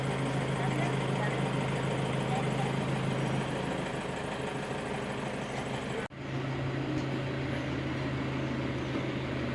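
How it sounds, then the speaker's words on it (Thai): A loud, continuous engine roar of nearby traffic drones throughout at a hillside temple in Phu Thap Boek, Thailand, cutting out for a split second before resuming. "จากตรงนี้เสียงรถดังไปหน่อยนะครับ"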